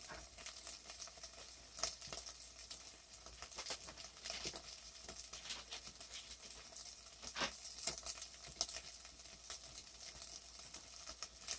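Bacon sizzling as it cooks on a Grill Boss 90057 dual fuel grill, a faint, continuous crackling hiss with scattered small pops and no talking.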